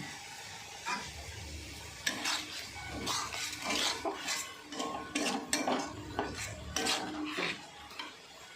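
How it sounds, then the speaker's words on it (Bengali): Spice paste fries in a pan with splashes of the water used for boiling chicken. A metal spoon scrapes and clinks against the pan in repeated stirring strokes over a soft sizzle, close to the listener. "এই জলটা দিয়ে সেদ্ধ করা জলটা একটু একটু দিয়ে মশলাটা ভালো করে আমি কষিয়ে নিচ্ছি"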